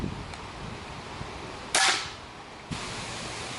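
An air gun fires a single sharp, loud dieseling shot, a bright crack followed by a short fading tail, with a softer thud of impact about a second later over quiet background.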